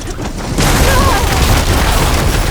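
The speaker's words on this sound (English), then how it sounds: "Detonated!" An explosion detonates in Horizon Forbidden West with a loud, deep boom that swells into a sustained roaring rumble and fills the rest of the moment.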